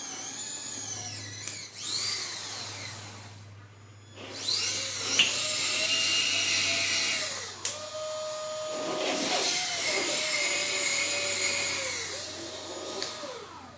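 A cheap RC car winch motor runs under throttle with a loud, high electric whine that rises and falls in long surges. Gear and rubbing noise comes through, with a short drop in the middle and no talk.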